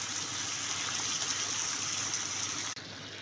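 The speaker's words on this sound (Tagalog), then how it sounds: "Ilinagyan ko po siya ng kalahating tubig guys." Water pours steadily into a pan of chicken and liver seasoned with ketchup and soy sauce, a continuous close gushing splash that cuts off abruptly near the end.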